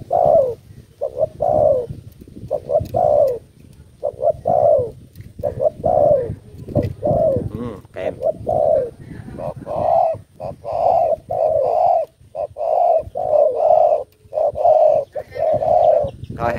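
Caged doves or pigeons coo repeatedly in close, loud, rhythmic bursts, several birds overlapping with short pauses between calls, and occasional faint chirps in the background.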